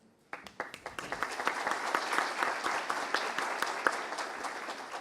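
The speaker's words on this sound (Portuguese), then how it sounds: "Uma salva de palmas para o Ingo." Conference audience at an innovation congress breaks into applause for a speaker, a few opening claps swelling quickly into a steady, full round of clapping that carries on without talk.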